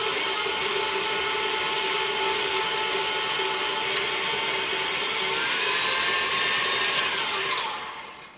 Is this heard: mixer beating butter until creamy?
yes